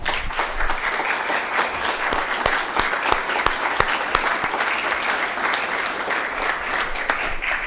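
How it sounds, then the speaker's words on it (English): A meeting audience at the Texas Real Estate Commission applauds its staff, a sustained, loud roll of many hands clapping, with a few sharper individual claps standing out from the dense, continuous texture. "I want you to applaud the staff."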